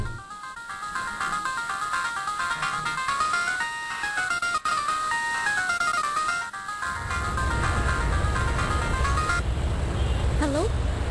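A phone rings with a repeating electronic melody of bright stepped tones during an indoor drama scene, steady and clear, then gives way to a lower rumbling background in the last few seconds.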